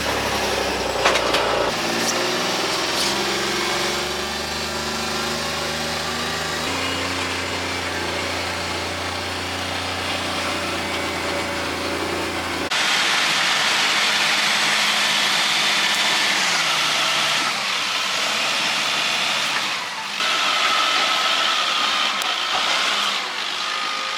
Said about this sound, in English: right behind me here where the bulldozer's working